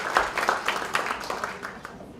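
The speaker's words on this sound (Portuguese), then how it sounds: "vamos continuar aplaudindo" An audience at an economics award ceremony claps in a short burst of scattered, uneven applause that fades slightly, heard at moderate distance.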